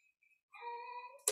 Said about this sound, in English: That's my kitty cat for you.